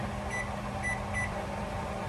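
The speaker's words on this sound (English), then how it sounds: "And microwave for 5 minutes." A microwave oven's steady hum drones throughout, with three short, faint beeps spaced evenly over it.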